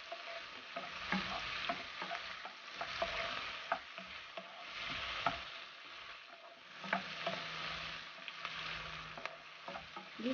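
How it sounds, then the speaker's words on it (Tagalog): Pork sautéing in a pan for pork pochero, a continuous soft sizzle with scattered clicks and stirring scrapes, fairly faint and steady with no talk. "Gisahin natin siya ng maigi"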